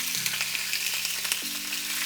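Swordfish steak on a hot, smoking grill gives a steady, fairly quiet sizzle with faint crackles, heard close and alone without any talk.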